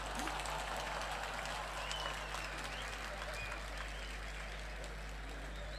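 A crowd applauds at the Kerala School Kalolsavam arts festival, a steady wash of distant clapping and murmur over a low electrical hum, with voices mixed in.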